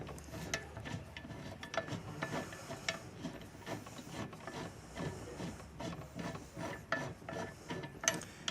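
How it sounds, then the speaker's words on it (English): A wrench turns a nut on the stand of an SWF embroidery machine, giving faint repeated metallic ratcheting clicks and scrapes in a steady irregular rhythm, close but quiet. "just put it around this nut down here and turn it in that way"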